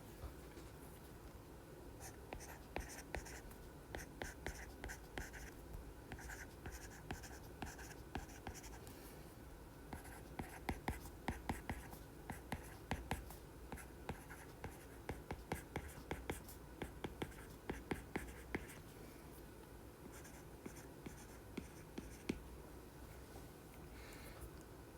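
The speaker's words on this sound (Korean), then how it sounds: "뒤에 단어가 잘 안 써져서 다시 한번 써볼게요" Pen or pencil writing an English answer by hand on paper, a steady run of light scratchy strokes and taps close to the microphone, with soft breathy murmuring in the background.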